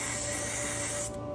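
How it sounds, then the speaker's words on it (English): Spray gun laying down primer paint, a steady close hiss that runs evenly for over a second before tapering slightly at the end, with no talking. "I'll just spray everything over, whatever it lands on"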